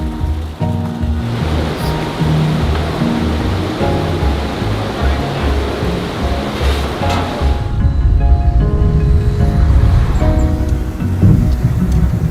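A river flowing beside the Karakoram road near Fairy Meadows, Pakistan, heard as a loud, continuous rush of water that holds steady throughout and grows slightly stronger near the end.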